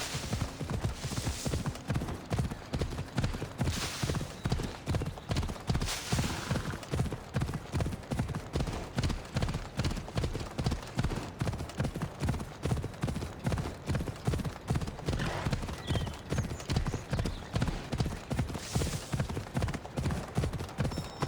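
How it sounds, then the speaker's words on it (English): A horse galloping in the video game Assassin's Creed Odyssey, its rapid, evenly spaced hoofbeats pounding steadily for the whole stretch, loud and close, with no voices over them. "Ride, Phobos!"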